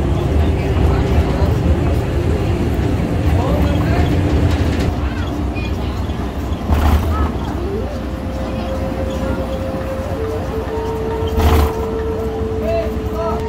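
A miniature zoo train at Jacksonville Zoo rumbles steadily along with a low, continuous drone, with faint whistle-like tones and occasional louder bursts of noise.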